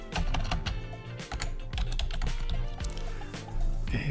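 A name is typed on a computer keyboard, a run of close, brisk key clicks with uneven rhythm and a faint hum of music or background tones underneath.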